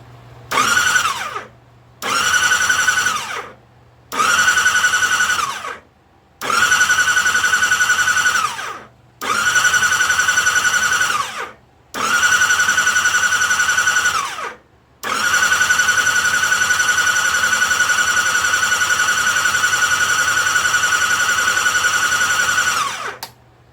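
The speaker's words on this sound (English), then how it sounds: "I'm just going to spin it over, get some oil pressure built up" A bus engine on a post-track maintenance check is cranked over to build oil pressure: six loud, evenly spaced starter bursts of one to three seconds each, then one long unbroken crank of about eight seconds, with no talk.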